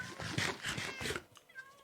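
Minecraft cats meow several times in quick succession, close and fairly loud, with faint game background sounds after they stop.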